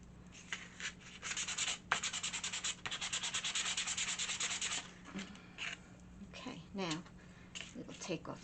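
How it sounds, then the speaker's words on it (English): Brisk, rhythmic rasping strokes of sandpaper rubbing wood, close up and in rapid bursts, then easing off into a few scattered scrapes. "really have to do a lot of sanding."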